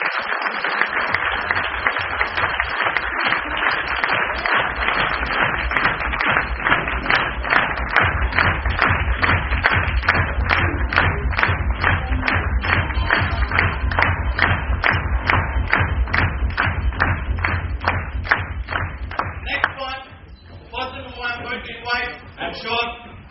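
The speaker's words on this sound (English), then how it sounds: "please put a huge round of applause in welcoming Mr. Ranjit Dayanandan, our operations head" An audience claps steadily and loudly to welcome an operations head at a company event, the applause holding for about twenty seconds before thinning near the end as a voice begins over it.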